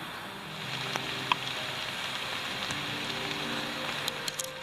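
Heavy rain pours down outdoors in a park at dusk, a steady broadband hiss of drops with a few brief sharper spatters, continuous and fairly close, with no talking.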